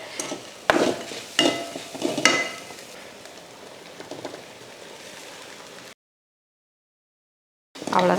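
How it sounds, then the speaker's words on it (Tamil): Carrot egg rice stirred in a pan on a stove over low heat, with soft crackling sizzle and several sharp scraping knocks of a spoon, followed by a silent gap and a brief return of sizzling. "அவ்வளோதான், இப்போ கிளறி விட்டுருவோம்"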